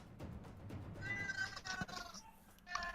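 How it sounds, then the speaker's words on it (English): A pet cat meows a few times in a room, faint to moderate and somewhat distant, under low background noise from a tabletop game session. "Whose cat do I hear?"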